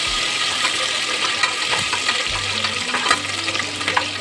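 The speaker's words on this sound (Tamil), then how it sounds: "ஊற்றி நல்லா பொரிஞ்சு வரட்டும். வந்ததை நான் தட்டில் காமிச்ச எல்லா பொருளையும் அதில் போட்டுக்கலாம். போட்டு நல்லா கிண்டி விட்டுக்கலாம்." Pongal tempering frying in hot oil in a pan while being stirred, a steady close crackling sizzle with scraping stir strokes and no talk.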